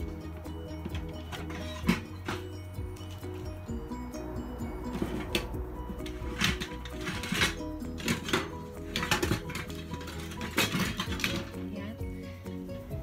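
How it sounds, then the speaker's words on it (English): Four eggs are whisked in a bowl while making buko pandan ensaymada, giving quick clinking taps of utensil on bowl in irregular bursts, with a person talking throughout. "Ibit muna natin yung ating eggs, guys"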